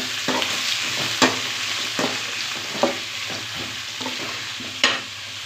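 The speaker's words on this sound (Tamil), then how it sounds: "காஞ்ச மிளகாய் போட்டு தாளிக்க போது" Dried red chillies and onion sizzle steadily in hot oil for a Pallipalayam chicken curry, with a sharp scrape of the stirring spoon about once a second over the continuous frying hiss, close and fairly loud, no talking.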